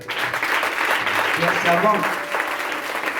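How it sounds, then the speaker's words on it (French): A church congregation applauds together, continuous dense clapping at close range with a voice speaking over it. "Acclamons pour Josué."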